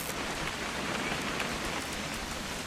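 Steady rain falls and patters on surfaces, a dense, even hiss that stays constant throughout without any other sounds.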